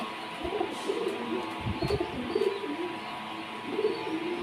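Pigeons coo in soft, low, repeated burbling calls close by, overlapping one another steadily with no talk.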